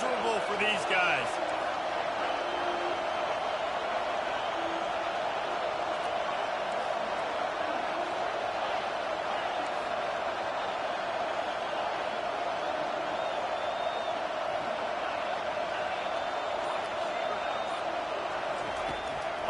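Steady stadium crowd roar from a college football video game, CFB-25, a constant dense wash of noise running the whole time beneath continuous play-by-play commentary.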